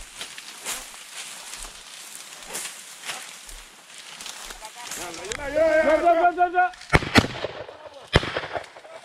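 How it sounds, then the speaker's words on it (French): Shotgun shots fired at francolins during a bird hunt in Senegal ring out as a few sharp, loud cracks near the end, after soft rustling and a stretch of birdcalls and voices nearby. "Mes premiers tirs sur des francolins ne seront pas concluants."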